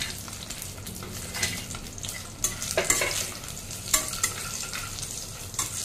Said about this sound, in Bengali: এবার আমি ওই তেলেই বেগুনটা আর বড়িটা দিয়ে দিচ্ছি